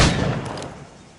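A single gunshot fired at targets in Assassin's Creed Rogue, a sharp blast at the very start that fades into a short decaying echo, alone and fairly loud.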